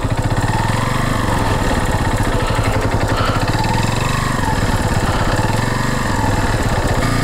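A motorcycle engine runs close and loud with a steady, rapid pulsing throb that holds an even idle-like rhythm throughout, with no voices over it.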